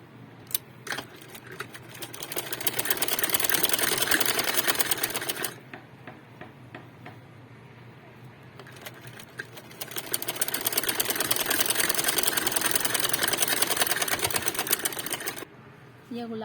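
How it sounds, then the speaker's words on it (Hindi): Sewing machine stitching a seam on a cloth cover, two long runs of fast rhythmic needle clatter separated by a pause with light handling noises, close and clear. "ये अब इस कोने से सिलाई करूँगी।"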